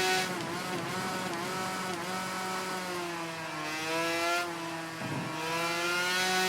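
Motorcycle engine braking in the Ride 3 video game, a loud continuous engine note with harmonics gliding down and back up as revs shift, close and steady throughout.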